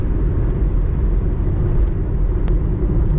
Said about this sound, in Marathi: बघा ही आमची गाडी पुढे गेली बघा